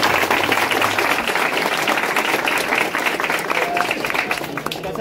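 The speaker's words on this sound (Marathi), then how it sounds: "तर सगळ्यांसाठी आपण एकदा जोरदार टाळ्या वाजूया." A crowd at a Govinda pathak Dahi Handi ceremony claps loudly, a dense, sustained wave of applause that stays strong and close for several seconds before easing slightly.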